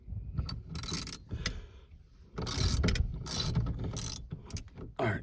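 Ratchet being cranked while removing the steering wheel of a Chevrolet S10, giving bursts of rapid clicking and metallic mechanism noise with short pauses between strokes, close by.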